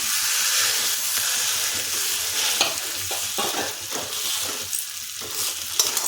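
Mashed potato is stirred and fried in a pan where ginger has cooked, producing a loud, dense sizzle and steamy hiss with soft scraping and occasional spatula clicks throughout, no one speaking.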